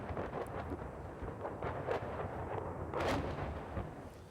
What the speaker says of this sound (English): This local hospital has to operate with constant shelling around it.